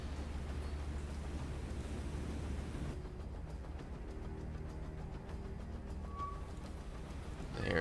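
Steady heavy rain and rough sea wash roar continuously around a submarine at the surface in the naval combat game War on the Sea, a dense, unbroken storm texture with a brief faint tone near the end.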